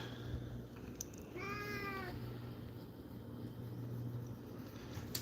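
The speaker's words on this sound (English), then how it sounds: "the cat saying hi again" A cat gives a single clear meow over steady room hum on a live-streamed farm with dogs and cats, the cry short and fairly close, with no talking around it.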